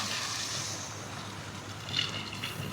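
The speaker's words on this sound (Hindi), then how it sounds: "अब इसके अंदर गरम पानी डाल देंगे।" Hot water poured onto moringa pieces to make soup, a steady liquid trickle with a faint hiss running the whole time, with a slightly brighter splash near the end.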